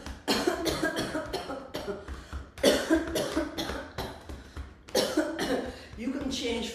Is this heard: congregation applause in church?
no